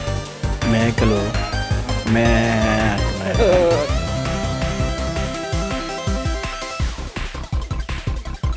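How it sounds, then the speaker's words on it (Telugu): Goats bleat loudly nearby on a farm among sheep and cows, several drawn-out wavering calls that overlap, followed by rapid clattering or bleating bursts toward the end. "మేకలు"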